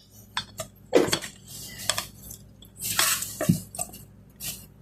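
Spatula scraping and stirring sliced apples with sugar and cinnamon in a bowl, soft irregular clinks and wet squishes close by, no talk.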